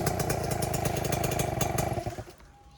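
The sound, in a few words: motorcycle riding on a dirt path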